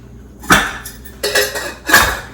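Apples are set into a pan on a stovetop, three distinct clattering knocks of fruit and metal spaced about three-quarters of a second apart, close and fairly loud.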